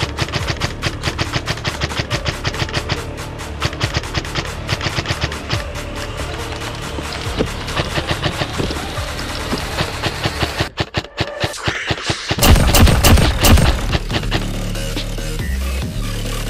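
G&G MXC-9 airsoft gun firing repeated quick bursts of rapid clicking shots outdoors, loud and close, with short pauses between bursts and a louder, denser stretch near the end.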